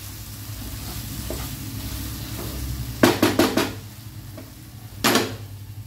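Mushroom masala sizzles and fries in a pan, with a spoon clattering against the pan in a quick run of scrapes and knocks and then one more stir a moment later.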